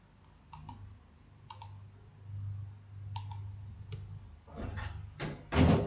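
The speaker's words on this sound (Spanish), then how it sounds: "Vamos a seleccionar presionando la tecla Shift todas las letras." The Shift key is pressed while a mouse selects text on a computer: a few sharp, close clicks spaced apart, then a quicker burst of clicking ending in a louder thump.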